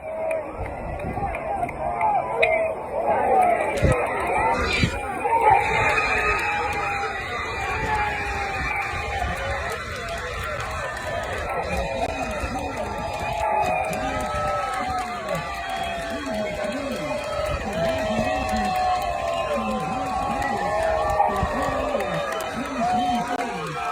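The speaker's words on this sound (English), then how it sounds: "see the crowd's reaction to the end of the game" A crowd at the end of a high school baseball state championship game roars and cheers continuously, with whoops, shouts, and a siren-like wail rising through the noise as voices talk across it.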